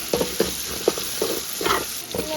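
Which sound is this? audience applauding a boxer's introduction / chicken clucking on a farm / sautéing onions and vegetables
sautéing onions and vegetables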